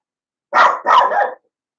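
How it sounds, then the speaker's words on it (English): A dog indoors near an open balcony gives two quick loud barks in close succession, close to the microphone, with silence before and after. "Stop barking, Bubba."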